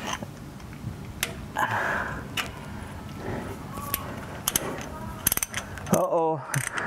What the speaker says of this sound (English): turning the wrench